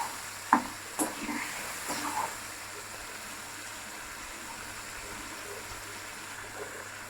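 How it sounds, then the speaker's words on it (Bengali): An egg and potato curry masala with turmeric and salt is sautéed in a pan. A few knocks and scrapes from stirring come first, then a faint, steady sizzle carries on alone. "এটাকে আমরা ভালো করে কষিয়ে নেবো।"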